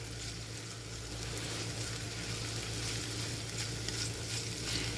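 Tomatoes sizzle in a pan while being stirred for harissa butterbeans, a steady dense frying hiss with soft scraping underneath, continuous and fairly close with no voices.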